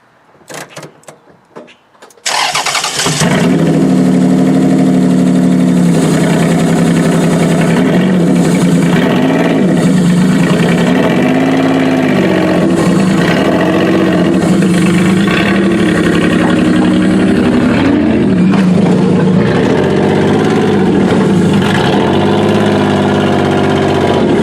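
A few clicks and cranks, then a worn Toyota Avalon's engine catches and settles into a loud, steady idle that rumbles on with slight wavering.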